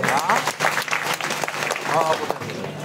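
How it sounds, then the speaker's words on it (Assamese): A crowd at a rally demanding justice over Zubeen Garg's death claps steadily while a voice speaks over the applause, which stays fairly loud throughout. "এটা হাত চাপৰি দিলে ভাল লাগিব"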